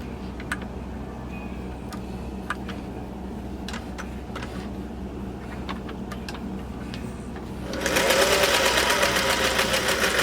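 A Singer sewing machine fitted with a top hat cam runs close by, ticking with sparse irregular clicks over a low hum before surging into a loud, steady mechanical whir for the last couple of seconds.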